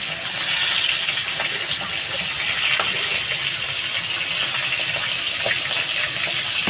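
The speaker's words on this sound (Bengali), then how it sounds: "আমার তেলটা গরম হয়ে গেছে বন্ধুরা আমি মাছগুলো দিয়ে দিলাম" Pabda fish frying in hot oil, a steady close hiss and crackle of sizzling fat that runs unbroken throughout with small pops scattered through it.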